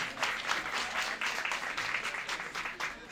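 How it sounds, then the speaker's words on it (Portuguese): An audience at a panel event claps steadily for an invited national secretary, giving moderate, even applause heard from some distance for a few seconds without a break. "Uma salva de palmas."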